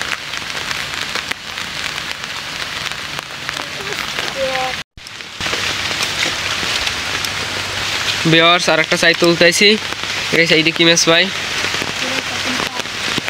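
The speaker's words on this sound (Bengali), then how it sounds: "চারদিকে বৃষ্টি পড়ে, প্রচুর পরিমাণ বৃষ্টি।" Heavy rain pours steadily over the Sundarbans forest, a dense continuous hiss of drops on surfaces, with people talking over it in the middle of the clip.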